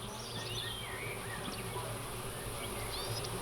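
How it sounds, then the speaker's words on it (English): Insects and crickets drone steadily beside a French carp fishing lake, with a few faint bird calls drifting in from a distance over a constant background hum and no talking. "Just the crickets and the birds singing."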